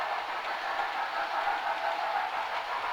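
Model railway train running steadily inside a garden shed, a continuous close rolling hiss and rumble with no pauses and no speech.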